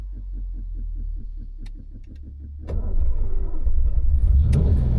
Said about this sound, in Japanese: じゃあまずはクラッチを踏んでキーをひねります。